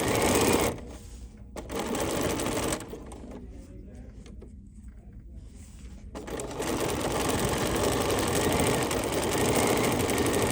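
A home sewing machine stitches an embroidery sampler's sashing rows, whirring in steady close bursts, with the needle stopping and starting twice in the middle before running continuously again.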